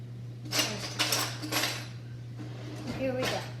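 Teaspoon pulled from a drawer of cutlery in a home kitchen while making aquafaba meringues, a few close metallic clatters and clinks in short bursts over a steady low hum.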